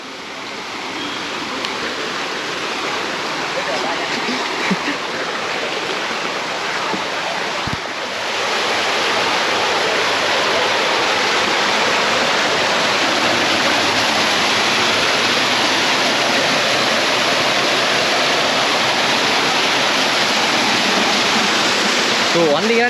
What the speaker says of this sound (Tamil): அதுக்கு போகிற வழியிலே பாருங்களா, ஃபால்ஸ் தண்ணி வீழ்த்துதுங்க.